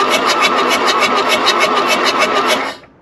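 An old VW Golf I diesel engine runs up close with a loud, rapid, evenly pulsing clatter, then cuts off abruptly near the end.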